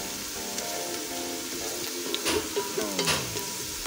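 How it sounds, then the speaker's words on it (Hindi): Onions fry in a pan for pilau, cooked to a light golden brown, giving a steady close sizzle with a few soft stirring scrapes near the end. "इसको हम लाइट ब्राउन करेंगे, जैसे गोल्डन कलर देंगे"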